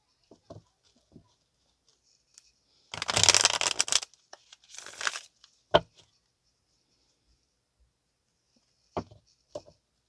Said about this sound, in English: I feel like I need to shuffle.